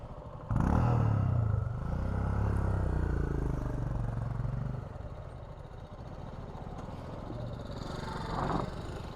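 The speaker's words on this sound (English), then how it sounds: "Riding the Gixxer on off-road" Suzuki Gixxer SF motorcycle engine on an off-road track, a steady loud running drone with slight rises in revs, near throughout and alone.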